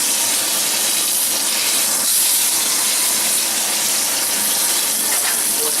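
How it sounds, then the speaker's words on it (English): Lamb rump searing in a hot pan, a loud, continuous broad sizzle and hiss that holds steady throughout, close and without pauses or talking. "Getting that nice seal on the lamb."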